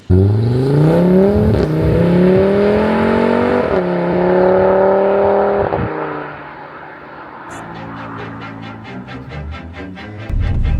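An Audi RS3 8P with a stage 2 tune and Miltech exhaust fires up and revs hard, a loud close engine roar climbing in pitch, dipping and rising again before settling into a burbling idle with crackling pulses.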